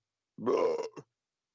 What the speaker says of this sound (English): I'm sorry if I'm burping a lot